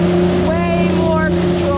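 A 2022 Superjet stand-up jet ski races over waves, its engine roaring loud and close with a steady droning whine that shifts in pitch as the hull bounces across the bumps.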